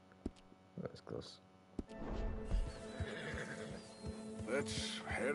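A horse in the video game Red Dead Redemption 2 whinnies loudly near the start, followed by hoof clip-clops and a second neigh, with a voice briefly heard over the sounds.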